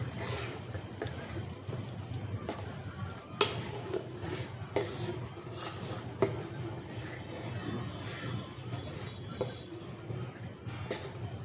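Fruit pulp stirred into homemade juice in a container, a spoon scraping and clinking against the sides in a steady, continuous rhythm with occasional sharper knocks, close up and moderately quiet.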